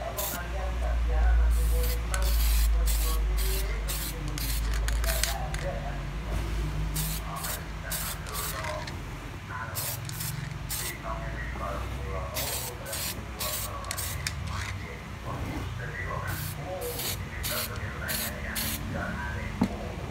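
A spray gun blasts paint in long, loud hissing bursts during classic custom paintwork, the steady spray stopping and starting in short pulses at close range over a low background rumble.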